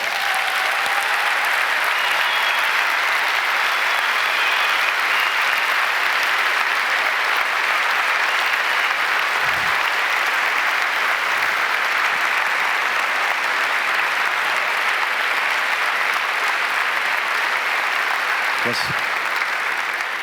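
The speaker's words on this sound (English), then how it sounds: "Please give them a big round of applause." A large audience at the IFFR 2020 film festival opening night claps in sustained, dense applause that holds steady throughout at high volume.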